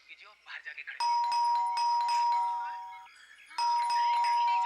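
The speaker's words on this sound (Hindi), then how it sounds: "तो तुम बजाओ घंटी, शायद तुम्हारे हाथ से सुन ले।" A doorbell rings: two long, bright electronic chimes sound one after the other with a pause between them. Brief murmured voices come just before the first ring.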